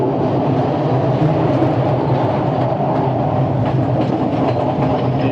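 A train from Kandy to Ella rumbling steadily along the rails past tea fields, a continuous loud roar with faint rhythmic clatter, heard up close with no voices.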